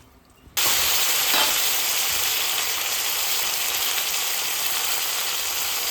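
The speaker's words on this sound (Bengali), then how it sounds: "মাছ বাজার তেলে আমি সবজিগুলি বেজে নেব" Vegetables go into hot oil left from frying silver carp fish, bursting into a loud, dense, steady sizzle that starts abruptly after a brief quiet moment and continues unbroken.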